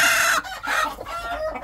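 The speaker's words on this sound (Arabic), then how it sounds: "هاي دجاجة نايمة تريد تبيض" Chickens at a backyard poultry reserve in Zafaraniya, Baghdad, cluck steadily and fairly close, a hen settling to lay among them, with a rooster-like crow mixed in and no speech.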